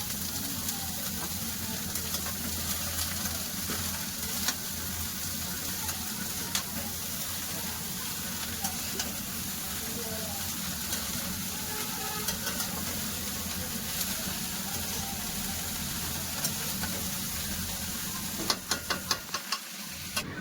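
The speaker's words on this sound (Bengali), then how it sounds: "এবার দিয়ে দেবো ধুয়ে রাখা কফি আর আলু ভালো করে পেঁয়াজের সাথে একটু কষে নেবে" Cauliflower and potato pieces fry with onions in a pan, a steady close sizzle with stirring running throughout, a few louder knocks near the end.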